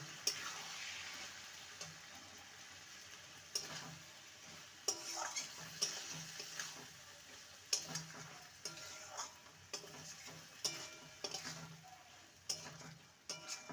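Chopped coriander is stirred into a bottle gourd curry in a pan: rhythmic utensil scrapes and ticking taps against the pan recur every second or so over a soft, steady sizzle.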